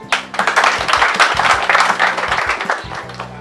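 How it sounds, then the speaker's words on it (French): An audience at a meeting of a local friendly association in Balembo breaks into loud, dense applause, the clapping sustained and close with some cheering mixed in. "vous solliciter pour un tonnerre d'applaudissements"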